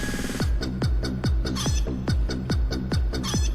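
A dance song plays loudly over a podcast stream, with a steady bouncing beat of repeated sharp hits about twice a second. A clucking, fowl-like tone fills the texture, and no one speaks over it.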